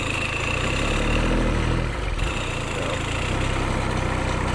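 A turbo diesel engine on a John Deere motorcycle runs loudly and close with a low, steady idle rumble that shifts slightly partway through.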